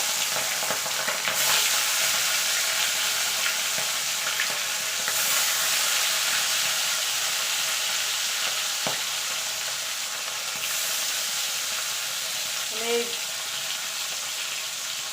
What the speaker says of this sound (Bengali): আমি মাছগুলোকে ভেজে তুলে নেব